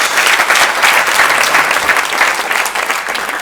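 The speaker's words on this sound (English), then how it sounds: "A big and better round of applause." Sustained audience applause fills a book prize award ceremony hall, a dense, steady wash of many hands clapping at close range that continues without a break.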